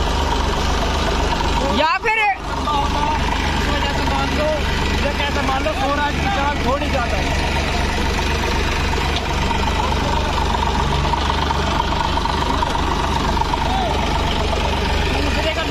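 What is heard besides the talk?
Massey and Swaraj tractor engines running side by side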